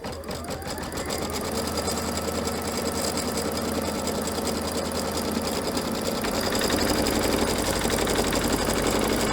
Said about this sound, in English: so let's stitch this piece down.